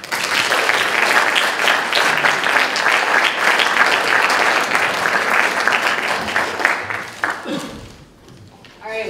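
An audience applauds to welcome a speaker, sustained loud clapping filling the room before it fades, with a voice speaking briefly near the end.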